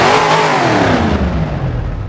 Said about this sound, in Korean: 제가 시동 한번 켜볼게요. 스타트.